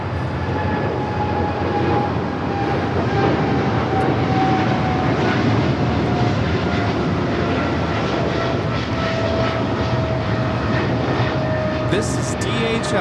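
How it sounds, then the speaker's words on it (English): A DHL Boeing 777 freighter operated by Polar Air Cargo takes off at Los Angeles LAX, a loud sustained jet roar with a steady whine running throughout, with a voice talking over it. "This is DHL, operated by Polar Air Cargo 992, taking off to Cincinnati on the 777 freighter"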